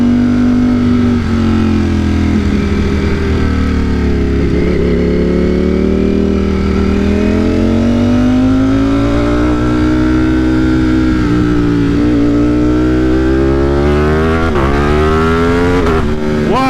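A naked motorcycle tuned to about 200 wheel horsepower roars loudly and close in third gear, its engine note climbing steadily in pitch through a long sustained pull before shifting near the end.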